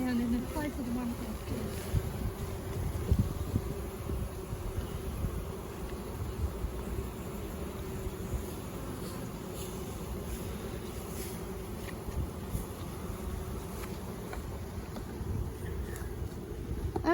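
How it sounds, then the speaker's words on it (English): Honeybees hum around an open hive frame during a community garden inspection in June, a steady low buzz close to the microphone mixed with wind buffeting and occasional handling bumps. "You can keep filming what these bees look like between the frames"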